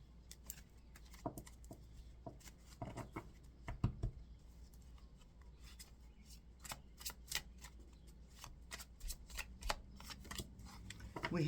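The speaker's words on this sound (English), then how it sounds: "This one I can give another shuffle." A Light Seers tarot card deck being shuffled by hand, quiet crisp riffles and soft slapping card clicks in irregular bursts over a low background hum.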